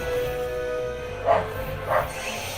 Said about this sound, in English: Bebop, what are you barking about?